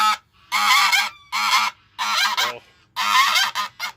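Nesting goose honking protectively in loud, close bursts, several harsh honks in a row separated by short pauses, with a brief human exclamation at one point.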